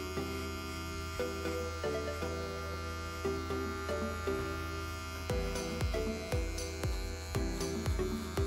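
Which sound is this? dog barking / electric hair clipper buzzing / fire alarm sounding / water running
electric hair clipper buzzing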